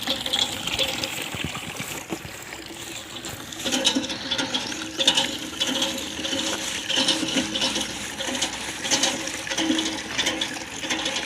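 Water gushes into a container being filled to carry to cows on a sunny day, a loud continuous splashing stream mixed with rhythmic mechanical clanks and creaks.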